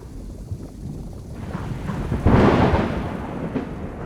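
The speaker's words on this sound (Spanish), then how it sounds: "Llovió toda la tarde y escuchás un trueno así." Thunder after an afternoon of rain: a low, rumbling roll that swells to a loud crack-like peak midway and slowly fades, over a steady background of rain and wind, with no voices.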